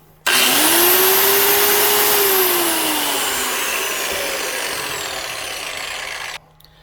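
A Harbor Freight Bauer 7-inch high speed grinder spins up with a sharp onset into a loud, steady high-pitched whine, its pitch sagging slightly as it runs for about six seconds before cutting off abruptly.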